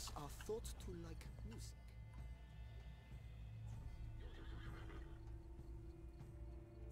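Horse in The Witcher 3 video game gives a short whinny near the start, followed by quieter hoof clip-clops and ambient game sound, with talk heard over it.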